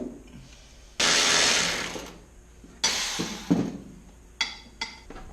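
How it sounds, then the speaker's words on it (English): Ratchet work on the transmission of a 1998 Mitsubishi Mirage with a 4G15 engine: bursts of loud metallic ratcheting and clanking, several separate pulls with short pauses, close by. "I want to go ahead and try to unbolt some of this transmission here"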